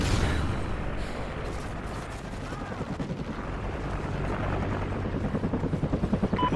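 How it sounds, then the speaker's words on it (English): A friendly helicopter arrives in Call of Duty: Ghosts, its rotor thudding steadily through dense gunfire and battle noise in a hardcore team deathmatch, with the rotor pulse growing stronger toward the end while radio voice callouts sound intermittently. "Friendly chopper inbound."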